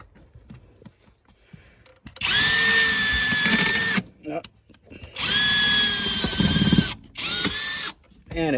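A power drill drives a screw into the metal body of a mail truck while a pedal kit is fitted, in three loud whining bursts that climb in pitch under load, separated by short pauses with faint clicks.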